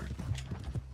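Horse hooves clip-clopping in a video game, a steady run of close, moderately loud hoofbeats with a faint mechanical clatter underneath.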